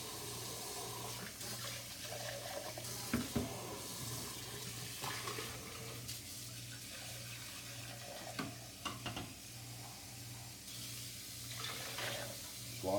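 Water from a sink tap runs over a French press plunger as it is rinsed, a soft continuous stream with a few clinks and splashes, close but quiet.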